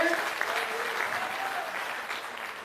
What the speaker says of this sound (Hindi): जोरदार तालियों से एक बार स्वागत करें